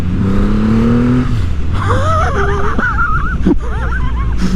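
A Triumph Rocket 3 R Storm motorcycle engine from 2024 rumbles and then rises in pitch as the throttle opens, loud and close, with wavering revs over steady wind rush and road noise.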